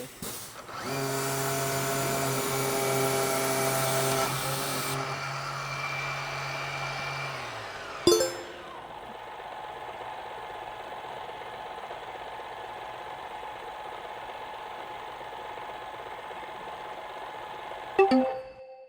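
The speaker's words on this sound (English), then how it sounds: "the time it takes between you to release the gun and for the machine to turn off is actually quite a bit" A MAXFLOW pressure washer keeps running loudly for several seconds after the gun is released, then its motor winds down and stops, leaving a quiet hum broken by two sharp clicks, with no voices.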